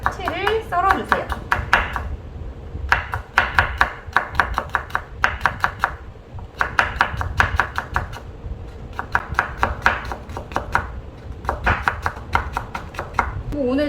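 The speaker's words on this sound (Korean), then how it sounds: "오늘 당근은 최대한 얇게 또 썰어주세요." Carrots are julienned thin with a knife on a cutting board, with rapid bursts of sharp, even chops separated by short pauses, close and clear, while someone talks over the chopping.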